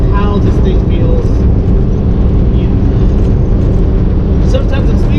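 A 1961 Volkswagen with a manual transmission drives along, its loud, steady engine drone and road rumble filling the cabin continuously without a break.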